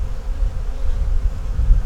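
Honey bees buzz steadily on a hive frame during a check for a virgin queen, a dense, close, continuous drone with no voices.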